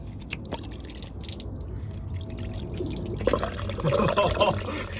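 Coolant draining from under a cheap Volkswagen, a steady liquid trickle and splash that grows louder and busier toward the end, with people talking over it.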